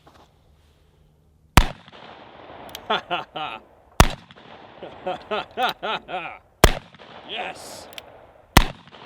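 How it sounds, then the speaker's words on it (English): A Desert Eagle pistol firing .50 Action Express rounds outdoors gives four loud, sharp cracks spaced a couple of seconds apart. Each shot is followed by ringing echoes, and excited voices speak between them. "So first shots through the 50 Action Express."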